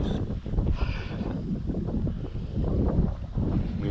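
Wind buffets the microphone during a bike ride in the countryside, a continuous loud rumbling roar with gusty swells and rustle throughout.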